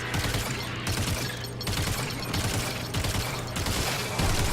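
Rapid automatic gunfire in the video game Warframe, sounding as dense, loud bursts in quick repeated volleys over a low steady hum, without talking.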